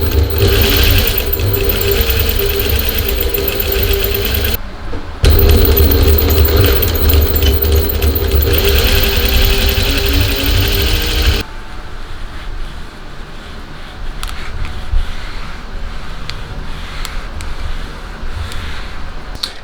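Sewing machine stitching seams on fabric for a bucket hat, a loud close rapid mechanical whir running in two long bursts with a short break, then stopping into quieter handling sounds.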